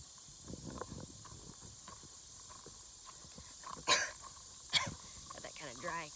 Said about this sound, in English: Got that kind of dry cough going.